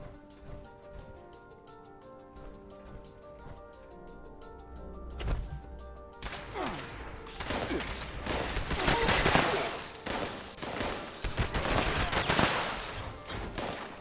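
Gunfire in the video game Fallout 76: after a quieter stretch with a tonal background, a single sharp shot lands, then a dense run of rapid bursts and cracks fills the rest of the stretch at moderate loudness, with no talk.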